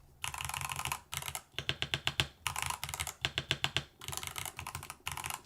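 Rapid bursts of keystrokes from a Manta mechanical keyboard with a brass plate and many keys and keycaps missing, clacking in close, loud flurries separated by brief pauses.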